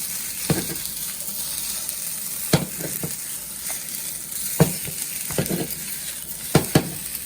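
Noodles fry with a steady sizzle in a pan as eggs are mixed in, with several distinct utensil scrapes and knocks against the pan breaking through the hiss.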